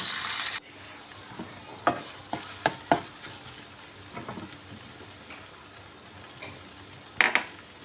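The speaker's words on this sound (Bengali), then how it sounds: "এইভাবে করে আমি পেঁয়াজটাকে তেলের উপরে ভালো করে ভেজে নেব" Chopped onion and tomato fry in oil with a soft, steady sizzle, broken by several sharp scraping and tapping stirs of a spatula against the pan; a loud burst opens the clip, otherwise quiet and close.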